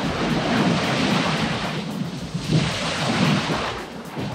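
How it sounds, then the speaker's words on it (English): Steady broadband roar of ocean surf in Hawaii with strong-current waves swelling and breaking close by, plus gusts of wind buffeting the microphone. "these waves, this current is pretty strong."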